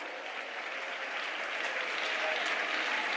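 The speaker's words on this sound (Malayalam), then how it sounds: "കൈയടിച്ച്" A church congregation claps their hands together in a dense, continuous burst of applause, loud and close, swelling slightly as it goes on.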